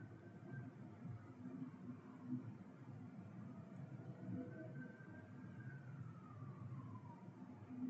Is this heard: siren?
yes